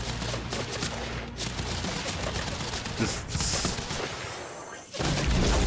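Sustained gunfire in the Quantum Break video game, a dense, continuous barrage of rapid automatic shots and impacts filling the whole stretch, loud and close, with a sharp burst near the end.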